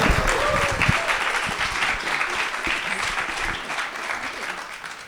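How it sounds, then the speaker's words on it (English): An audience applauds to welcome a speaker at an offshore wind startup pitch event, with steady clapping throughout and a few sharper claps standing out near the start. "Please give a round of applause to Bridget Bolahanis."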